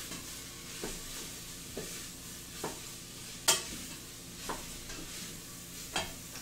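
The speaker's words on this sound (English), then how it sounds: "I'm just waiting for the onions to get translucent" Onions frying in a pan make a low, continuous sizzle, punctuated every second or so by soft scraping strokes of a utensil stirring them.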